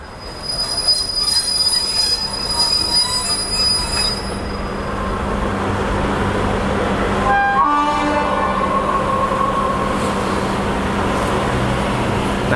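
Train 284 rumbles past close by at Khlong Tan station in Thailand, its wheels letting out high, piercing squeals that fade midway, then a brief horn-like tone before the steady rolling continues.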